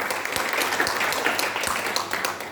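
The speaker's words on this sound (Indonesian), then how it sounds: "Tepuk tangan buat Tuhan Yesus." A church congregation claps together in a sustained, dense burst of applause that fills the room evenly for a few seconds, with no voices standing out.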